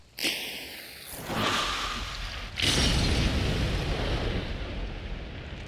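Video game fire bombs explode one after another in Hunt, booming, loud and close, followed by a sustained roaring rumble that fills the rest of the clip.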